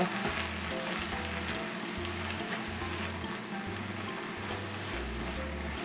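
Lettuce and dried whitebait stir-frying in a pan over high heat, giving a soft continuous sizzle with faint stirring scrapes, fairly quiet and close, with no talking.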